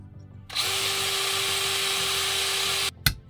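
Power drill enlarging a hole in an M14 rifle part, a steady high whine that runs for about two seconds, then stops, followed by a couple of short clunks.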